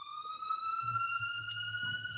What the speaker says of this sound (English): I heard a siren.